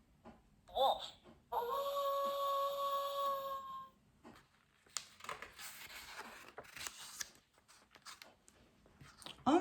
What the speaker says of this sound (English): The wolf howls.